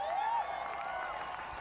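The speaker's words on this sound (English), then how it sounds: "give Kelly a big round of applause" A crowd at a freeride mountain bike slopestyle final applauds and cheers for rider Kelly McGarry, steady clapping and crowd roar throughout, with a voice briefly rising over it at the start.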